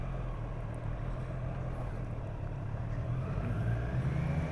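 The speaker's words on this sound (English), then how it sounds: "Car coming." A car drives past a cyclist on a road, a steady low rumble of engine and tyre noise holding for several seconds, moderately near, with no talk over it.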